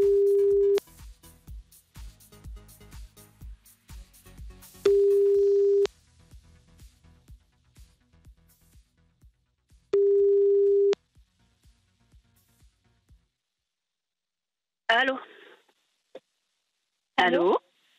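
Placing a telephone call on a radio show: repeated steady ringing tones with clicks between them, and later a voice picks up and talks faintly on the line.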